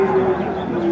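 A single low moo from a jumbo Limousin cow at a cattle market, brief and close, over a murmur of background crowd noise.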